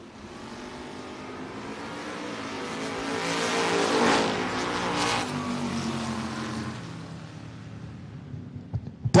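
Chevy drag race cars launch down the strip, a loud engine roar that builds and peaks mid-clip, then fades and gives way to sharp bursts at the end.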